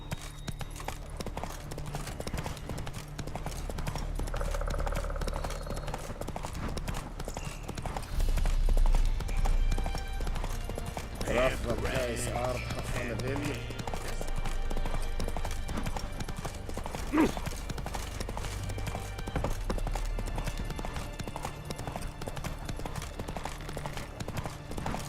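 Horse hooves trot with a steady clip-clop rhythm in The Witcher 3 video game, layered over game music and ambient sound, with a few faint voices briefly in the background.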